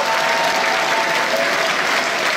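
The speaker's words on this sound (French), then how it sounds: "c'est grâce à vous que vous devez applaudir" Loud, dense applause from a large cinema audience at the official premiere of Taxi 5 at the Grand Rex, a continuous roar of clapping filling the entire short span with no pause.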